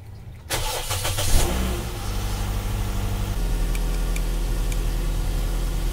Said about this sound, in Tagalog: So, pandarin ko muna yung sasakyan.